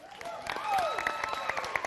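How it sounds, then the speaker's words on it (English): Applause from an audience, a steady patter of many hands clapping at moderate volume, with a short pitched tone sliding down in the middle. "let's give your new junior state officer team a round of applause"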